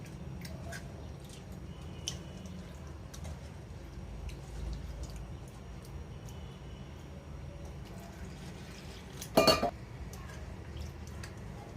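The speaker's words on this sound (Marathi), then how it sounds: "डाळ देखील तीन पाण्याने धुणार आहे" Toor dal being rinsed in water in a pot, with soft, low sloshing and faint clinks throughout, then a brief, sharp clatter of the pot near the end.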